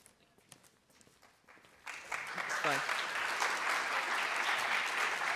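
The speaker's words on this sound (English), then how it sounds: "Yeah, go ahead, clap." Scattered claps start a crowd applauding at a fireside chat at UCLA, then loud, sustained applause fills the room, with some voices talking underneath.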